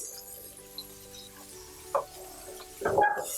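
Onion flash-cooked in hot oil for Mongolian lamb: a soft steady sizzle with faint clinks, then a sharp stir at about two seconds and a louder burst of frying and scraping near the end.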